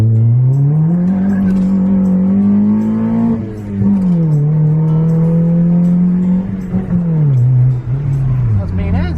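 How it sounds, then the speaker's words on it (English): A car is pushed hard in first gear. The engine drone is loud and close, rising in pitch, dipping briefly and climbing again, then falling away near the end. "first gear pull. First gear pull"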